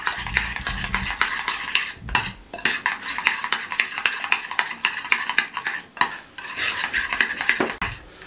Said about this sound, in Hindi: अच्छे से मिक्स कर दें।